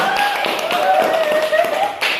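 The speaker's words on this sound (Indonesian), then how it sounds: "kita tepuk tangan untuk kelompok 3" A classroom group claps for group 3, a dense, steady patter of many hands at close range with brighter bursts near the end, while children's voices carry on underneath.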